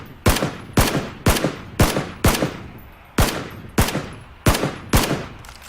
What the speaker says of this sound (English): So I take some shots.